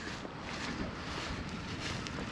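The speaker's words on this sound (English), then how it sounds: "A little windy today," Steady wind roars across the microphone, a constant broadband rumble with gusty buffeting and no voices.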